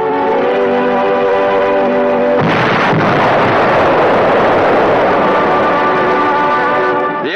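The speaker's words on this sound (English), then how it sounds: "The explosion spreads the fire through the entire harbor district." An explosion in Bombay Harbor, heard in an archival film: a steady, horn-like tone gives way to a loud, sustained roar that rumbles on for several seconds.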